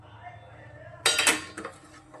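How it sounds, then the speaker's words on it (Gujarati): Dry fruits stirred into melted chocolate in a pan: a brief cluster of bright metallic clinks and scrapes of a spoon against the pan, close and fairly loud after a quiet moment. "હવે આપણે એમાં જે આ ડ્રાયફ્રૂટ હતા એ એમાં ઉમેરવાના છે। જો આ રીતે એને મિક્સ કરી લઈએ"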